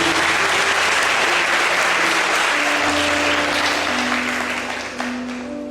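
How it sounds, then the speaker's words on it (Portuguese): Sustained applause from a church congregation after a scripture reading rolls on with dense crowd clapping, while an organ or keyboard holds notes beneath before the sound eases slightly near the end. "Vamos aplaudir a palavra de Deus."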